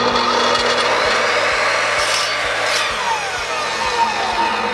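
A miter saw cuts through a wooden dowel, giving a steady, loud whirring blade sound with a rough rasp of wood being sawn, held close and continuous throughout.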